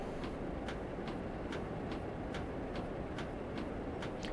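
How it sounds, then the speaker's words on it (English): Pacer diesel train running in Train Simulator 2021 on the East Coast Mainline: a steady rumbling roar with regular rhythmic clicks of wheels over rail joints, continuous and even. "Speeding in a pacer."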